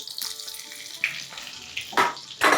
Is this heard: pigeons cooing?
no